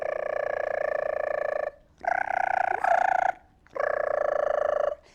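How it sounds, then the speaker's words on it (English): Three long, loud trilling calls of a gray tree frog, each lasting over a second, separated by short pauses. "play Gray Tree Frog calls"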